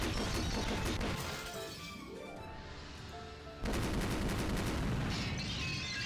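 Sustained machine gun fire in a video game shooting scene, dense and loud, drops away for a moment, then a bottle bursts into shattering glass before another heavy burst of gunfire.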